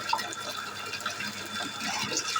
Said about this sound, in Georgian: ამ კრანს გავაღებ ცოტას და აი ესეთ ვარიანტში.